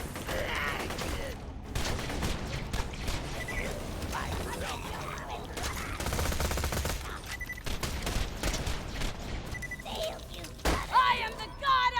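Gunfire from Gaige's weapon in the Borderlands 2 video game comes in dense, sustained bursts of rapid shots over a busy game soundtrack, with a few louder blasts near the end.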